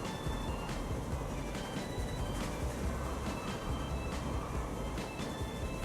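Trains run in the simulation game Transport Fever, giving a continuous rumbling rail drone with a steady rhythmic clatter of wheels over track, mid-distance and constant throughout.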